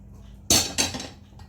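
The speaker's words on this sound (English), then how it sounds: "empty everything from the frying pan" Food is tipped from a frying pan into a cooking pot. Two sharp metallic clanks ring out close by, then a softer rattle fades away.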